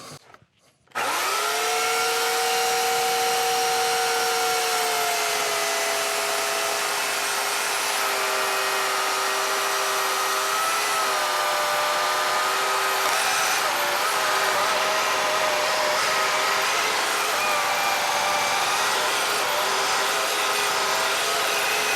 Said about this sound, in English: Alrighty, got my chainsaw here.